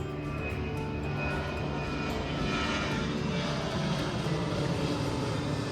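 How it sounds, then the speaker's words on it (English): A fixed-wing aircraft roars overhead as it climbs away after takeoff from a runway near Tivat in Montenegro, with a loud, steady engine drone that fills the scene continuously without pause. "Plane's just taken off"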